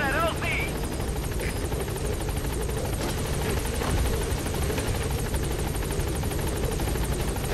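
Military helicopter hovering at a landing zone in Metal Gear Solid V: The Phantom Pain, a steady loud rotor drone with rhythmic blade chop throughout, with radio chatter and someone talking over it.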